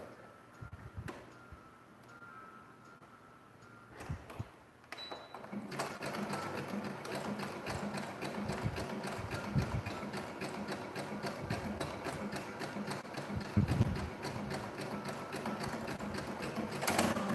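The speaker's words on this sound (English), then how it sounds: "Let's see if I can just sew it." A sewing machine stitches a fabric surgical mask, starting with a few short hesitant bursts before settling into a steady, rapid, close mechanical rattle.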